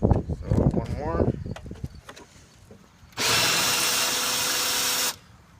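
A power drill drills out pop rivets on a lawnmower: after someone talks and some clanking handling, the drill whines loudly and steadily for about two seconds, then cuts off.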